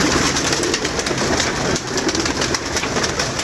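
Pigeons cooing in a loft, layered under a loud, dense wash of broadband noise that runs steadily throughout.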